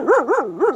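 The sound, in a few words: dogs barking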